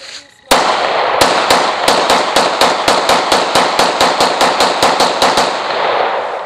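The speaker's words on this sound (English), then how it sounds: "We got Jay doing two handguns." Handgun shots fire in a rapid, loud, close series of sharp cracks, a single shot followed by a steady string of about fifteen evenly spaced reports.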